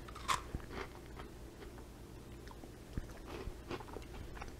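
Crunchy rehydrated freeze-dried carrot being bitten and chewed up close, a few crisp bites with softer chewing between, fairly quiet against a faint room background.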